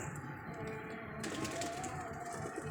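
Pigeons at a pigeon club coo softly and continuously in the background, a low murmuring flock sound with a faint whistle-like note and steady ambient noise, no talking.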